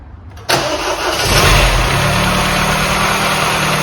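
A rebuilt classic Mini car engine cranks briefly, catches with a sudden loud burst, then settles into a steady, close idle with no talking.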